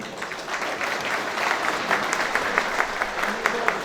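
Applause at the opening of a döner restaurant, steady clapping from a gathered crowd throughout, moderately loud with scattered sharper claps.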